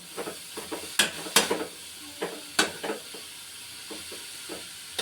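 Grated carrots are stirred in ghee for carrot halwa, making a run of soft, irregular scraping and clicking strokes over a faint sizzle at close range.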